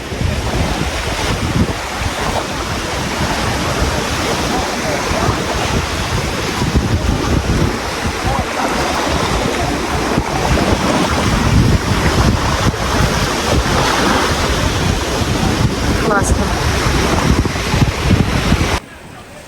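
Sea waves wash onto a shallow sandy beach at Bibione on the Italian coast, with wind buffeting the microphone. A loud, continuous roar of surf and gusts runs steadily throughout and cuts off abruptly at the very end.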